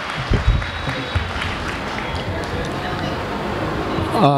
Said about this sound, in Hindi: एक बार तालियों की गूंज में जनाब कमल हाथवी का इस्तकबाल करें